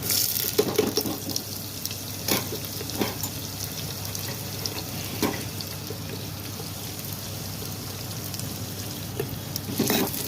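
Chopped onions frying in oil in a pan for purslane sambar, a steady close crackling sizzle with a few sharper scrapes of stirring scattered through it.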